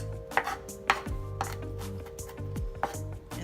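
A knife chops vegetables on a cutting board for goulash, sharp irregular thuds about two to three per second, close and clear with faint background hum.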